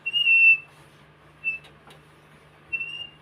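High-pitched squeaks from metal rubbing against wood during a Pioneer Premier rebuild, three short whistle-like squeals spaced about a second apart, fairly faint over a low hum.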